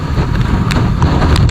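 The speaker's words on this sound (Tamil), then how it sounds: "அடிக்கிற காற்றுல வண்டி தள்ளுதுங்க" Strong wind gusting on a hill road in the Meghamalai hills, a steady broadband roar buffeting a close microphone with a few brief gust peaks, loud throughout with no talk.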